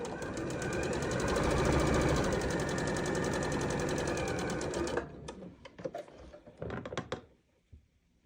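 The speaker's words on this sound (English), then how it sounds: "We sew the fourth brick on." A sewing machine stitches quilt pieces for a twist quilt block, running loud and steady for about five seconds, then stopping, followed by scattered soft thumps and fabric handling.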